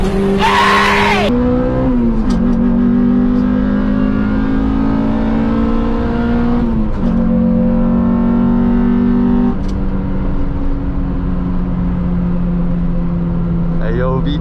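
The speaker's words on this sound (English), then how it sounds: "VTEC just kicked in" A Honda Integra engine screams loud and close, its revs climbing in long pulls between gear shifts as VTEC engages, with sharp pitch drops at each change and occasional shouting inside the car.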